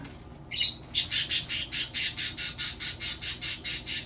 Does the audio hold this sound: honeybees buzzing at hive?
no